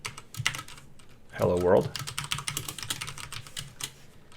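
Keys tapped on a computer keyboard while typing a line of Python code on a Windows 10 PC, a run of quick close clicks that continues under a man's speech.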